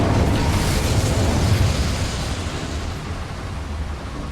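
A fire spell cast in Hogwarts Legacy bursts out as a loud, dense whooshing roar that gradually fades over a few seconds, with no speech.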